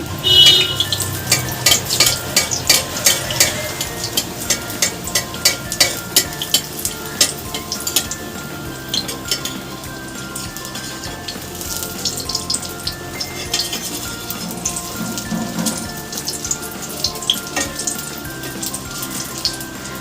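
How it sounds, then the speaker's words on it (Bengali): Stuffed ash gourd fritters filled with mustard paste fry in oil over a medium flame, giving a steady, close sizzle broken by frequent light clinks of a utensil against the pan throughout. "একটু টাইম নিয়ে ভাজবে বন্ধুরা তাহলে ভিতরটা ভালো ভাজা হবে"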